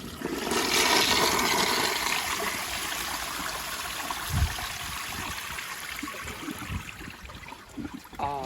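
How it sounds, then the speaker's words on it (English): A 1981 Eljer Emblem toilet on a flushometer flushes with a loud rushing surge of water that settles into a steadier draining swirl and trickle, heard close up. "The tank should be full for another flush, so here we go."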